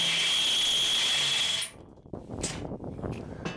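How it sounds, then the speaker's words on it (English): A power drill bores bolt holes through a steel grab hook plate for a John Deere 1025R tractor bucket, a loud steady whine that cuts off abruptly, leaving small clicks and handling noises. "Come around again and finish drilling the bolt holes."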